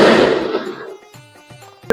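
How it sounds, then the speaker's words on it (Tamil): Firecrackers going off during a Tamil festive night, a loud crackling burst that fades over a second, then faint scattered pops and one sharp close crack near the end. "இது வந்து பட்டாசு வெடிக்கிறாங்க."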